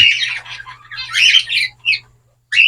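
Zebra finch chicks give harsh, squawking begging calls in several bursts with brief pauses between them, loud and close, with a faint low hum underneath.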